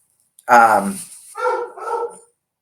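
An older dog that cannot get up easily barks three times from a short distance indoors. The first bark is sharp and loud, and the two after it are shorter and softer.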